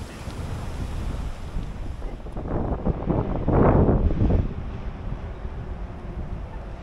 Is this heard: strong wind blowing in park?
yes